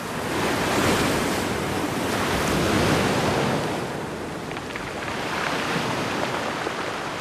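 Ocean surf on the low-lying shoreline of a Tuvalu atoll washes in broad, continuous swells of noisy roar rising and falling in slow waves, close and loud with wind, no voices.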